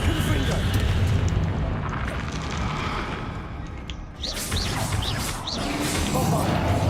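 Blasting spell explosions from Hogwarts Legacy, the fantasy video game: dense, continuous booming rumble with crashing bursts and whooshes, loud throughout with brief sparkling magical flourishes.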